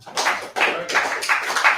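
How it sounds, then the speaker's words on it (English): A group claps together for a class in a hall, giving a few loud, close bursts of hand claps in a rough rhythm with no talking. "Let's clap it again up for the class."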